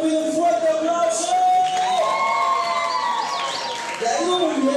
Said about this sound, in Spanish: Para el pueblo pido un fuerte aplauso.